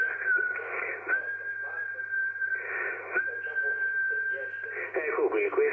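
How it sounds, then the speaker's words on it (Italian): Two long, steady whistled tones come through an Icom IC-7610 amateur radio transceiver, one after the other. They sit over constant hiss and crackling band noise. "Ti faccio lo stesso due fischi."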